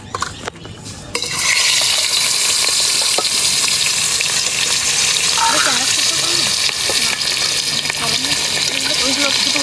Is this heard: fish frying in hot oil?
yes